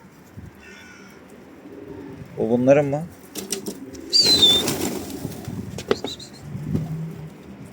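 A pigeon arrives outdoors, its wings flapping in a couple of sharp bursts with soft coos between, while someone speaks briefly nearby.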